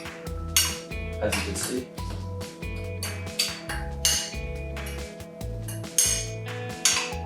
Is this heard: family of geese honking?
no